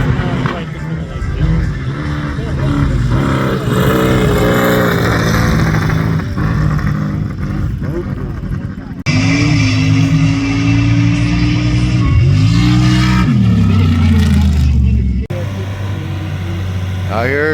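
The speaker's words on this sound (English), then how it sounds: "They're getting ready to run these alcohol cars." Alcohol-fuelled sand drag cars rev at Dome Valley Raceway, loud and close, with engine pitch climbing and sliding through repeated blips under constant crowd and PA chatter; the sound cuts abruptly into new segments.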